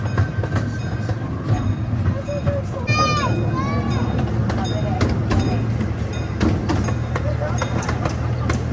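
KC Zoo Railroad miniature train at the Kansas City Zoo, a close steady rumble of rolling cars with clicking wheels and occasional squeals, while people talk and call out over it.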